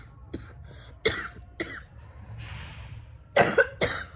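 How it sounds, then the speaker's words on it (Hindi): Several harsh coughs from one sick person nearby, scattered across a few seconds, with a breath or throat sound in between. "मेरे को खांसी बहुत आ रही है"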